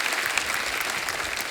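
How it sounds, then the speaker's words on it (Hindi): A studio audience at a TV comedy show applauds, a dense, even burst of clapping that continues throughout at moderate loudness. "जोरदार तालियां हो जाएं"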